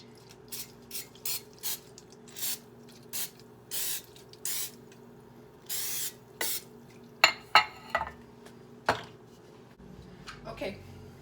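A series of short hissing cooking-spray bursts onto a non-stick muffin pan, roughly a dozen in quick succession, followed by a few metallic clinks and a faint drip-like sound.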